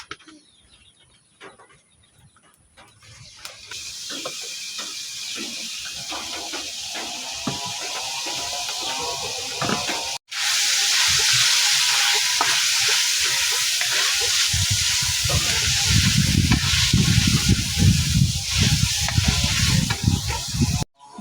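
Shrimp going into a pan for butter shrimp with corn: after a quiet start with stirring and clatter, a loud, steady sizzle takes over, broken by a sharp knock midway and swelling louder with crackling near the end.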